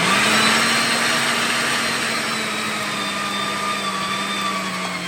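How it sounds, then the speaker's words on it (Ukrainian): An electric meat grinder mincing cut pieces of meat runs with a steady, loud motor whine and a constant hum throughout, with no break or talk. "Порізане м'ясо перекручуємо на м'ясорубку."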